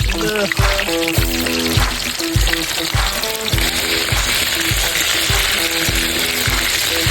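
Pork backbone frying in hot oil makes a steady, loud sizzle throughout, with a repeating low rhythmic thump, likely music, running underneath.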